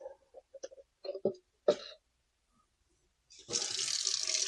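Hydroponic parsley roots are washed under a tap. A few short knocks and a throat-clearing sound come first, then a pause, then running water splashes steadily, close by.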